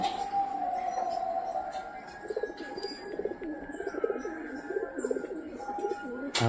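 Soft, low pigeon coos repeat in a steady warbling pattern, fairly close but quiet, over faint background hum.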